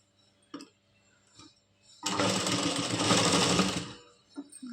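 A sewing machine stitches a buttonhole strip for hooks on a blouse, starting abruptly with a loud, fast steady whirring run of about two seconds, framed by faint clicks before and after.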